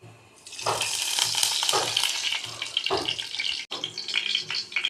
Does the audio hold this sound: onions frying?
yes